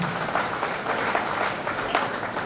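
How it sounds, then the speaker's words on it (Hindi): An audience claps warmly to welcome the Governor of Assam at a university ceremony in Udaipur, producing sustained, moderately loud applause with swelling bursts throughout. "शोर बजाकर तालियां स्वागत कर लिया"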